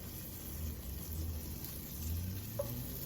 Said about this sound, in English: We're gonna add it to our hot pot here and let it get started melting on down.